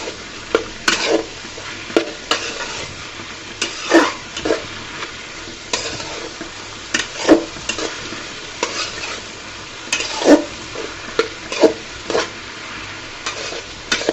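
Water spinach (kolmi shak) is stirred and fried in a pan over medium heat: an irregular run of scraping, clattering spatula strokes over a continuous low sizzle, close and fairly loud, with no talking.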